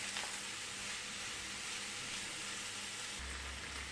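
Peppers and onions frying in a pan, a steady soft sizzle that holds quietly throughout, with no voices.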